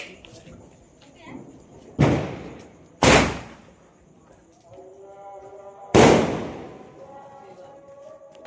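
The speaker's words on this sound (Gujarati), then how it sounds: "તો જો મારા ભાઈએ ફટાકડો ફોડી નાખ્યા" Three sharp, loud firecracker bangs, the last two close together, then one more after a pause, with faint background noise between.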